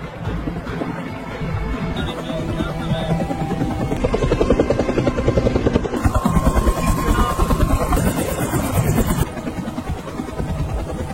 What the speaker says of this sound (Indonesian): helikopter rumah sakit dikirim ke tempat tersebut